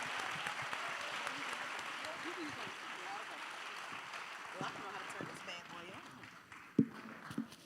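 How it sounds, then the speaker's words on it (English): An audience at an international leadership summit applauds in a steady, moderately loud wash of clapping that continues throughout, with a few louder individual claps near the end. "give yourselves a round of applause"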